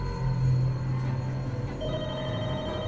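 A telephone rings in the video game The Walking Dead: Michonne, a steady electronic ring over a low, rumbling ambient background with no talking.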